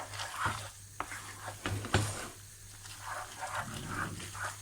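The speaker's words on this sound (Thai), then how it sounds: "คนให้เข้ากันอย่างรวดเร็วนะคะให้ไข่มันเกาะเส้นนะ" Carbonara pasta being stirred quickly with raw egg in a pan off the heat, giving soft wet scraping and clicking close by, with a steady low hum underneath and no talking.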